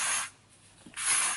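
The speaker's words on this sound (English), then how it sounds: "I'm just going to finish off my hair with this big sexy hairspray" Hairspray hisses onto styled hair in two bursts, a short spritz at the start and another near the end, loud and close with a quiet gap between.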